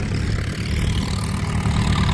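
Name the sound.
Farmall F20 vintage tractor engine idling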